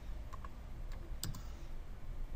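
Computer keyboard typing, a few light, close clicks and taps in a short irregular burst over quiet room noise, with no talk.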